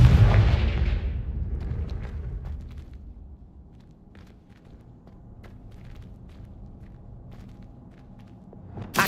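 A Confringo fire-blast spell in Hogwarts Legacy goes off at the start as a loud, broad explosive burst, then quiets into a low rumble with scattered soft footsteps and light clicks.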